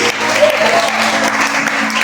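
A church congregation breaks into applause during a sermon, a brief dense wash of clapping from many hands, loud and sustained throughout.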